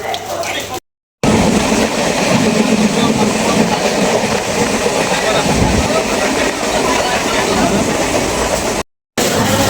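A passenger train running through heavy rain on the way toward the Sundarbans, a loud, steady rumble and rattle of carriages heard from inside, continuous apart from two short dropouts.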